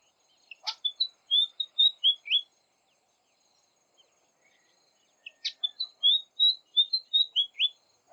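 A fantail flycatcher sings two bursts of sweet, high whistled phrases, each opening with a sharp note and running through a rapid descending series, separated by quiet.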